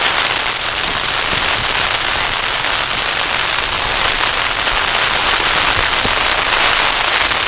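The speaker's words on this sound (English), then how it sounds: "Sounds like sleet." Sleet and freezing rain strike a car during a violent storm, a dense steady hiss of pellets drumming on the roof and glass for the whole stretch, with scattered sharper ticks standing out.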